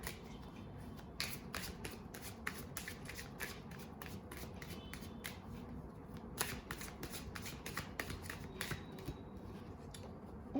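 Tarot cards being shuffled by hand: a steady run of quick, crisp riffling snaps and soft card slaps, close and quiet, with no talking.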